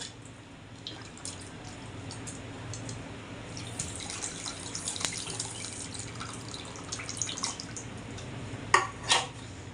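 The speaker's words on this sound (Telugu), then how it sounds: "ఇందులో కూడా కొన్ని వాటర్ పోసుకొని" Water is poured into a pot while a tamarind chicken curry cooks. It makes a soft, continuous trickling wash with a few sharper splashes and clinks near the end, and no one speaks.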